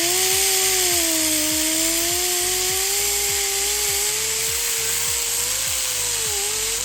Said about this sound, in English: I just like to use a 90-degree cutoff wheel